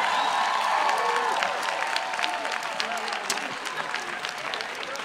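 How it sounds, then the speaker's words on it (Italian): An outdoor audience at the Parco della Cervelletta applauds Carlo Verdone at a film presentation: a dense, continuous wash of clapping that eases slightly toward the end. "Un applauso per Carlo Verdone per la presentazione di..."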